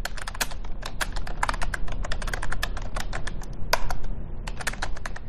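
Rapid typing on a computer keyboard while entering a chmod command at a command line, a dense stream of crisp close key clicks over low background hum, no talking.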